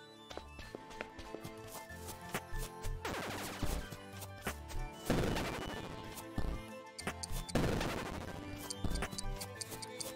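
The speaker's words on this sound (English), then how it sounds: "The explosion was clearly not strong enough." Video-game explosions in There Is No Game: Wrong Dimension come as three sharp crashing bursts spaced a couple of seconds apart, over faint ticking and clattering game sounds, with no talk.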